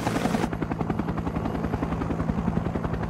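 Vietnam War helicopter with a steady, loud rotor chop pulsing evenly throughout, a louder burst opening the sound before it settles into the rhythmic thumping.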